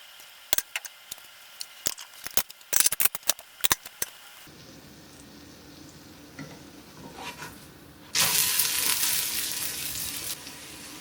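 Carnivore pancakes fry in a pan, first with a run of sharp clicks and taps, then a low steady sizzle that jumps to a loud, bright hiss near the end.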